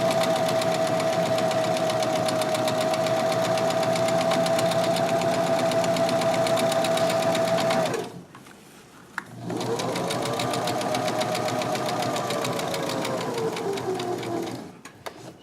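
A sewing machine stitches fabric for a pillow with a loud, steady mechanical whir. It runs in two long stretches separated by a short pause, and no one speaks.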